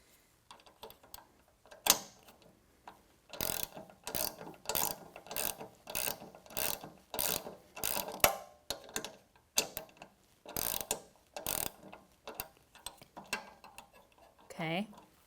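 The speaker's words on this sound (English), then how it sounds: "once I have those loosely on there, I can then tighten it with my wrench" Ratchet wrench tightening a nut while assembling an Allegro Nextgen reformer, giving bursts of quick mechanical clicking in several separate runs, close and fairly loud, with a few short gaps between strokes.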